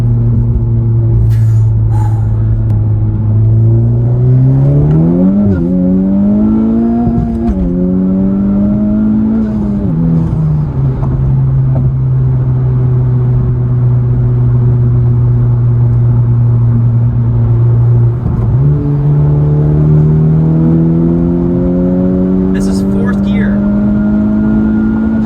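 A 2021 Honda Civic Type R with a Stage 2 tune accelerates hard in R mode, its engine note climbing loudly through several gear changes with a steady droning tone throughout.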